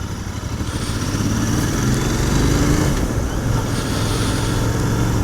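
Continental GT 650 with stock exhaust riding on an early winter morning, a steady low engine drone heard close up, heavily mixed with constant wind rush over the microphone and no talk.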